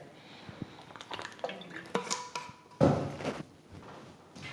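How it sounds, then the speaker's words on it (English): Water being sipped and swallowed right next to a microphone, with wet gulps, small slurps and clicks at an irregular pace and a louder, rougher burst near the end. "Hate to drink water in the microphone because you hear horrible."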